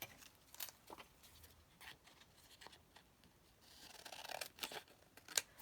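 Paper being cut with scissors for a junk journal project, a series of quiet, crisp snips and rustles spread across the clip, growing a little louder and busier toward the end.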